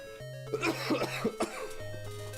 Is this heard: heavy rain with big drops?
no